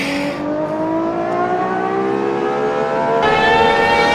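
A Lamborghini Aventador SVJ engine revs hard, a loud, sustained high wail with its pitch sweeping steadily upward over four seconds and brightening near the end, heard close and alone.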